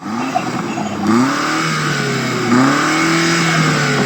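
A BMW engine revs hard twice, pitch sweeping up with each blip over a steady loud idle rumble, close and without speech.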